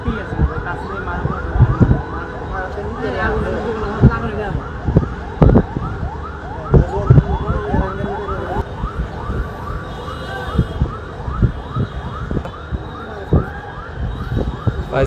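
Fire service emergency vehicle sirens wail in repeated rising-and-falling sweeps at a burning garment factory in Chattogram EPZ, loud and close, over a busy background of crowd noise and sharp knocks.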